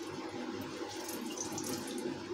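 Water running and splashing steadily as freshly made paneer (chhena) is squeezed to drain it for sponge rasgulla, a continuous close wet trickle with no talk.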